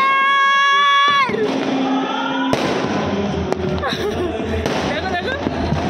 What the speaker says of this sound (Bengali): ওই এখানে কন্টিনিউ ফাটছে